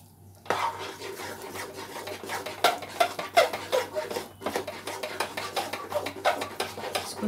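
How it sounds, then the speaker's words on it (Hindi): Semolina stirred in ghee in a metal pan, with a steady, continuous scraping and rasping of the spoon against the pan, close and repetitive with no voices. "लगातार चला के"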